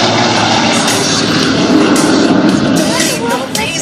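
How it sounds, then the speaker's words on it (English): A one-of-a-kind jet aircraft with 4,500 pounds of thrust makes a low pass at an air national guard airshow, a loud sustained roar that swells toward the middle. Crowd noise and an announcer's voice mix in underneath. "give Jeff Urban a big wave as he comes by on this one-of-a-kind aircraft"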